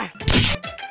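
A single sharp gunshot sound effect bursts out, brief and loud, between short vocal sounds before and after, during a Telugu TV comedy stage performance.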